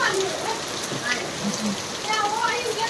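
Unseasonal rain pours steadily on a farm in Gujarat, a dense close hiss of drops hitting surfaces, with faint voices briefly audible beneath it.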